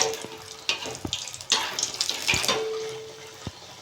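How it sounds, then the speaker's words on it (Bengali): Eggplant fritters (beguni) in batter frying in hot oil, a steady hiss and bubbling crackle with a few sharp taps and clatters of a utensil against the pan, no one talking. "তেলে ছেড়ে দেবো এরকম করে তেল দিয়ে দেবো ওপরে"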